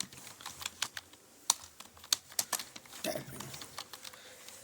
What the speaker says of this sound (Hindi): हमें कीबोर्ड नहीं देखना है, फील करके टाइप करना है